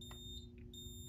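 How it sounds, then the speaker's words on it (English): A faint electronic beep tone from a fire alarm panel repeats over a steady low hum, quiet and thin. "You may hear that the panel is beeping."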